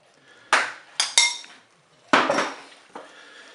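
A spoon mixes a meatball preparation of beef with Boursin and mustard in the metal pot of a Cookeo multicooker, giving several sharp metallic clinks and scrapes in short bursts, close by, with quiet gaps between.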